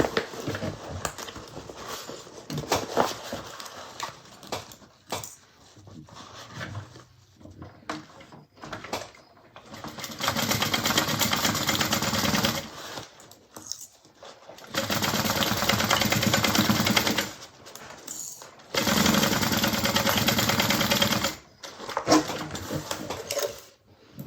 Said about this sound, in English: we're going to sew across that 1/4 inch